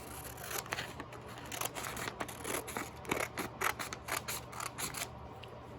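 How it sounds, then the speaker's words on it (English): Scissors snip steadily through a paper rectangle being trimmed from an origami sheet, a quick series of close, crisp cuts with no talking. "I'm going to cut off this rectangle at the bottom."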